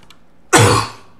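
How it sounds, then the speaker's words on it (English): A single short, harsh cough with throat clearing, sudden and close, lasting about half a second before fading, with no speech around it. "Sorry about the cough."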